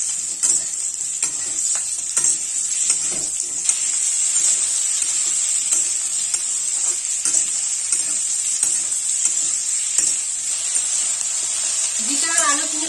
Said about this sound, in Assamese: জিকাখিনি মই আলুৰ লগত একেলগে ফ্ৰাই কৰি লম।